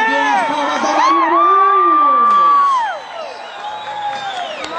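A rodeo crowd at a Cabrália Paulista event cheers, whoops and shouts loudly for competitor Marina Moraes, with an announcer's voice over the steady roar, which drops and thins after about three seconds.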